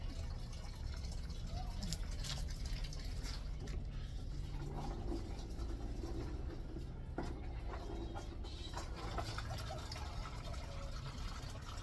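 Cherries are rinsed under a running tap, with a continuous close stream of water splashing steadily throughout and only slight variations.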